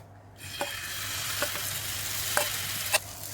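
After a brief quiet moment, egg and potato batter hits a buttered pan on low heat and breaks into a steady close sizzle, with a few light scraping taps of a spatula.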